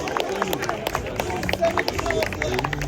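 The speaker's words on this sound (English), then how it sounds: "Big round of applause, please, ladies and gentlemen, the winner of the Chairman's Award." Audience applause breaking out at an outdoor classic car concours award ceremony in London for the Chairman's Award winner, a steady spread of claps under crowd murmur.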